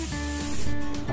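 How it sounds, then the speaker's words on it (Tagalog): Garlic and onion sautéing in a hot pan, a steady close sizzle and hiss with a faint electronic tone running behind it. "At nang medyo tosta yung bawang ay naglagay na rin ho ng sibuyas."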